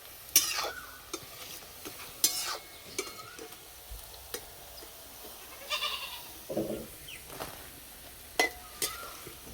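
Ripe papaya fritters fry in hot oil, a soft crackle broken by sharp, irregular clinks and stirring knocks, close by and fairly quiet.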